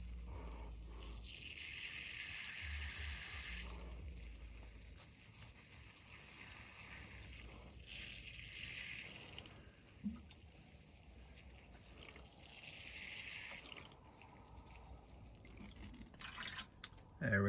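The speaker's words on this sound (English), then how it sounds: "let's water these guys up" Water pours from a can onto a freshly repotted elm bonsai in recurring bursts of spray and trickle, several seconds each, separated by quieter pauses, moderately close with no one talking.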